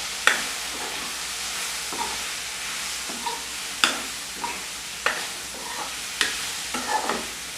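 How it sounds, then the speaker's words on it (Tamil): A spoon scrapes and stirs brinjal curry with unpeeled garlic cloves in an oily pan, giving sharp periodic knocks over a constant frying sizzle, close up and without talk. "சேர்த்து கிண்டலாம்."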